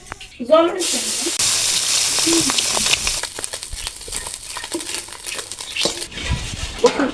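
Small mola fish fry in hot oil, a steady bright sizzle running through with brief clatter, while someone talks over it near the start.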